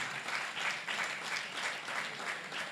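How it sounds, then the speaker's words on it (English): A smallish audience at a student meetup with animation professionals gives a round of applause, fairly quiet and moderately distant, with the clapping rising and falling in gentle waves. "please, round of applause for them"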